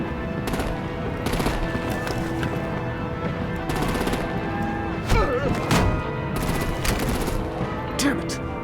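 Gunfire in Batman: The Enemy Within: repeated bursts of sharp, automatic-sounding shots crackle in quick succession over a thick, constant battle roar, with a few heavier thuds mixed in.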